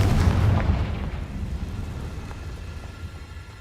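A Confringo fire spell blast in the Hogwarts Legacy video game: a loud, booming explosive burst that rolls into a long, rumbling decay.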